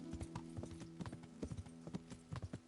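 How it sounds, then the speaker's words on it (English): Horse hooves clip-clop while riding through the town of Rattay in Kingdom Come, a brisk, uneven series of sharp hoof strikes over a faint steady hum, fairly quiet. "we're gonna ride our horse all the way through Rattay"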